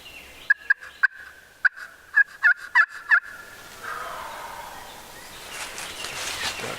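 A wild turkey gobbles in a quick series of sharp, rattling calls at a moderate distance during a turkey hunt in Hart County, then open outdoor quiet follows.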